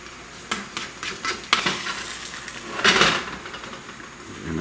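An ostrich egg omelet is being scrambled in a pan on an electric stove, with sharp spatula scrapes and clanks over a soft sizzle, including one loud scrape near the middle.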